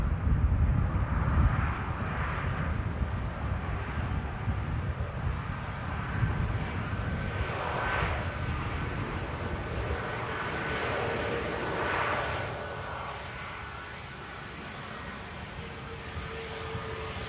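An Airbus A321neo jet at Manchester Airport gives a steady, broad engine roar at moderate distance, holding for most of the stretch and easing slightly toward the end.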